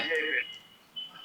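An electronic phone tone sounds briefly, a steady ringing pulse that stops and then starts again after a short pause.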